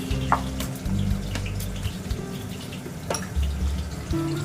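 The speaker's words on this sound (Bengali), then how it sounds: "এই আলুটাকে আমি তেলের মধ্যে সরষের তেলে ভেজে নিচ্ছি।" Potato pieces frying in mustard oil give a soft, intermittent sizzle and bubbling, with clinks and low thuds of utensils over it and no talking.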